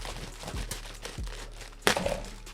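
A package is pried open with a spatula, producing a few crinkling, tearing scrapes of packaging with a sharper crunch near the end, close up and without talk.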